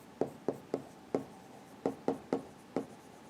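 Chalk or marker taps and strokes on a board while a chemistry teacher writes an example, coming as eight short, evenly spaced scratchy clicks, close and distinct, with no talking.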